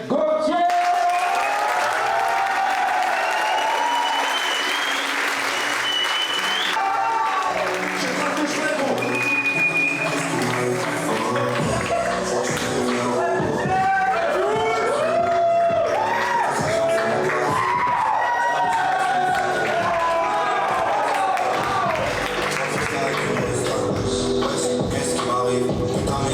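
An audience applauds and cheers the organizer at an evening event, with scattered clapping, whoops and crowd shuffling that swell and ebb over about 26 seconds, voices mixed in.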